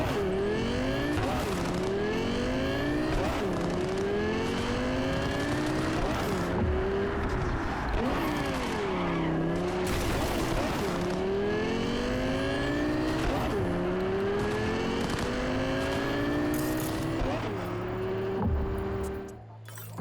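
A car racing in Cyberpunk 2077, its engine revving in repeated rising and falling sweeps as it shifts through gears, loud and continuous with tire noise, while a voice talks over it.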